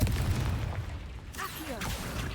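Spell blasts fire in Hogwarts Legacy, a few booming bursts and whooshing impacts rumbling through a busy fight with a voice calling out over them.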